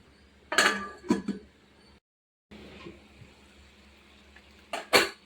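Goat blood curry being stirred in a metal pot with a spoon, then covered with a lid: a few sharp metallic clinks and scrapes near the start, a brief silent gap, then two more loud clinks at the end.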